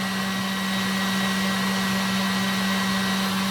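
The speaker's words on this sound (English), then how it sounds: "So there goes the last of the sugar. And we'll just whisk it up a little bit faster for a couple of minutes." An electric whisk beats meringue as the last of the sugar goes in for a summer dessert roulade, a steady loud motor whine running unbroken throughout with no talking.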